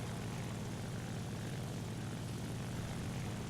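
A nearby enemy aircraft's piston engine in the War Thunder air battle, a steady droning propeller roar that fills the whole clip at constant loudness with no voices.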